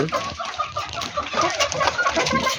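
Hill chickens cluck and murmur close by in a short, busy stretch, several birds overlapping with soft calls.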